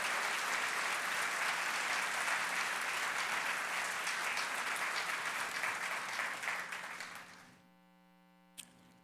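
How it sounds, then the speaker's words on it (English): Dense, sustained applause from a banquet audience at an award dinner fills the room, then tapers off and stops, leaving a low electrical hum and one brief knock near the end. "Let's give him another round of applause."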